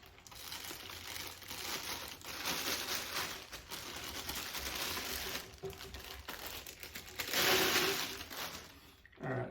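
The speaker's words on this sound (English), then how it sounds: "let's pull the horn out, which is in plastic here. And let's start the process of unwrapping this" Plastic wrapping crinkles and rustles up close in uneven bursts as a Yamaha Custom Z alto saxophone with amber lacquer is unwrapped, growing louder near the end.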